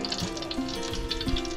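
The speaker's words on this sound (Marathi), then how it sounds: "फोडणीच द्यायचा कांदा लवकर आण लवकर तेल गरम होते" Chopped onion tempering in hot oil sizzles steadily and loudly, a continuous close frying hiss with a few sharper crackles and pops, heard alone without talk.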